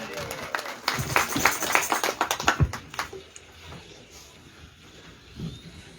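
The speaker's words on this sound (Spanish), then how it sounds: "Dale fuerte palmas al Señor" Church congregation clapping hands in praise during a service, a dense run of sharp claps that fades after a few seconds into quieter room sound with voices.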